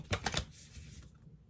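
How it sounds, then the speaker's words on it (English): A deck of playing cards is shuffled up close in a quiet room, giving a short burst of three quick riffling snaps followed by a soft fading rustle. "I'm still not good at shuffling like that"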